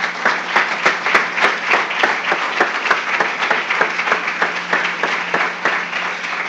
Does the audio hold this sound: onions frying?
no